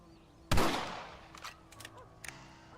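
A single loud rifle shot rings out in the Red Dead Redemption video game, a sharp blast followed by a decaying echo, with a few faint clicks and small sounds after it.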